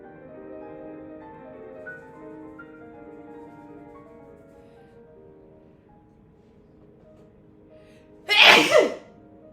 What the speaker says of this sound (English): I made myself sneeze.